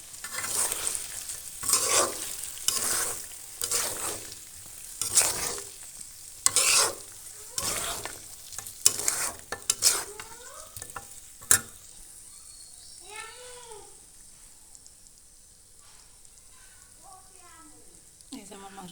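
Mutton bhuna being stir-fried in a pan: repeated spatula scrapes over a soft sizzle for the first half, then the stirring stops and a voice talks over a faint background hiss.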